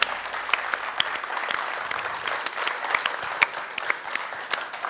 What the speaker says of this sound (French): Voilà, on peut l'applaudir, merci beaucoup